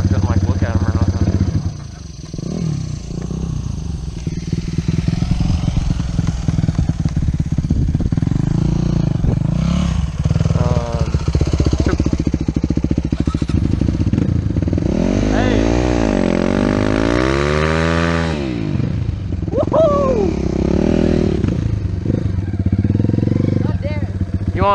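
Yamaha YZ250F dirt bike at a landfill, its engine loud and close throughout with revving rises and falls, while people talk over it.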